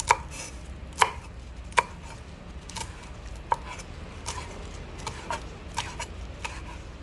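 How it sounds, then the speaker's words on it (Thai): A knife chops a stalk of celery into pieces on a cutting board. Sharp, crisp knocks come close and clear, irregularly spaced and louder at first, then lighter and quicker, with no talking. "แล้วก็หั่นให้เป็นท่อนๆ"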